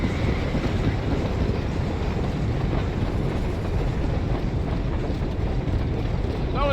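A train rumbles past in the game Red Dead Redemption, a steady heavy clatter and roar that holds throughout at close range, with faint talk underneath.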